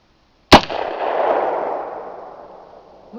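A single loud shot from a Windham Weaponry SRC AR-style rifle chambered in 7.62x39, fired outdoors, with a sharp crack followed by a long, fading rumble of echo.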